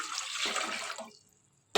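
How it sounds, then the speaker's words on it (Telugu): Water pours from a vessel into a heated cooking pot for masala pasta, a loud splashing rush that runs for about a second, then fades, before a short sharp splash at the end. "గిన్నె వేడెక్కిన తర్వాత వాటర్ పోసుకోవాలి"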